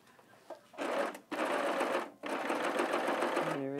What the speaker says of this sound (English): Now what I've got this serger set up for, 3-thread left needle, not using the right needle at all.